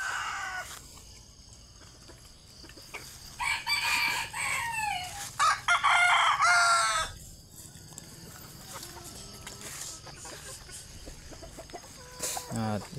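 Gamefowl roosters crow on a breeding farm, several loud nearby cock-a-doodle-doo calls overlapping in the middle, with fainter clucks and distant crowing around them.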